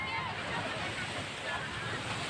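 Steady broadband wash of sea waves at the shore, a continuous surf roar mixed with wind buffeting the microphone, with faint voices in the background.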